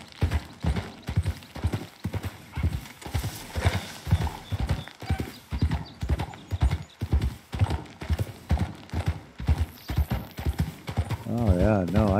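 A horse's hooves clip-clop in the video game Red Dead Redemption 2, an even, steady trot of loud hoofbeats throughout, ending in a brief whinny, with someone talking over the gait.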